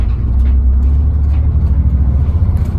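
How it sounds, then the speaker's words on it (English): A land yacht's engine runs under throttle, nearing the governor as it climbs a hill. It gives a loud, steady low rumble heard from inside the vehicle, with no break or sharp change. "I'm giving it some throttle. Getting up pretty close to the governor."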